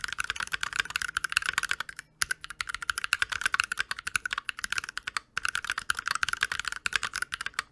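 Rapid mechanical keystrokes clatter on a Glorious X Ducky Mecha Mini keyboard with an aluminum case and Glorious switches, a dense steady typing rhythm with two brief pauses, close and crisp.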